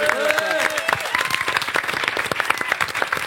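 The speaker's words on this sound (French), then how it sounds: "On applaudit Atlas qui la remplace" Audience applause at a French live entertainment show, a steady dense burst of many hands clapping with some crowd noise, loud and continuous.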